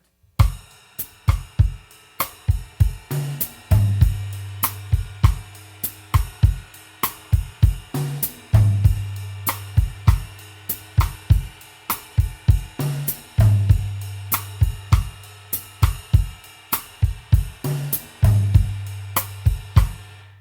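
Steady bossa nova drum pattern moving between kick, snare and toms in a repeating groove, with regular low tom hits, played alone at a moderate tempo.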